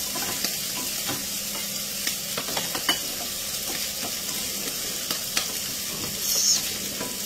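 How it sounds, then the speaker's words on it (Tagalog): Red rice stir-fried in a pan gives a steady loud hiss of sizzling, broken by the light scrapes and taps of a spatula, close up with no talk. "Tapos ilagay na natin yung red rice. Yan ang way ko magluto ng fried rice."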